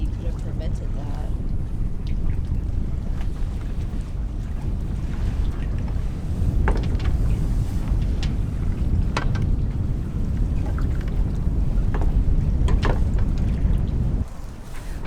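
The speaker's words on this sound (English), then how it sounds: "This wind just will not stop." Strong storm wind roars steadily around a catamaran sailboat at anchor, a constant heavy low rush with intermittent rigging knocks and slaps, continuous throughout with no voices.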